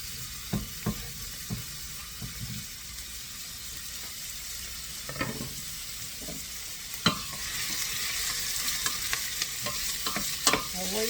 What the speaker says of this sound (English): when you see the oil shimmer, which I see, go ahead and add your onions in